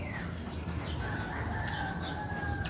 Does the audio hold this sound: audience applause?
no